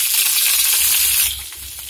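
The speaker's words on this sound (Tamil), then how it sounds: "ஆயில் சூடாயிடுச்சு, இப்போ ஜிஞ்சர் போட போகிறோம்." Ginger sizzling in hot oil in a pan for paneer masala, a steady bright frying hiss running throughout, close and fairly loud, easing slightly toward the end.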